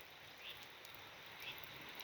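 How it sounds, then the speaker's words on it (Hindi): Morning rain falling in Almora, Uttarakhand: a faint, steady hiss of drops with no distinct individual impacts, quiet and continuous throughout, no talk. "ये देखो बरसात हो रही है।"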